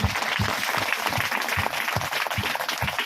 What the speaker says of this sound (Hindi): ताली बजाओ यीशु मसीह के लिए।